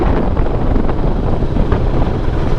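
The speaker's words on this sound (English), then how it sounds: "The wind feels really nice here." Wind blows steadily outdoors at a remote Portuguese village, a broad, continuous rumble buffeting the microphone for the whole stretch, loud and unbroken with no voices.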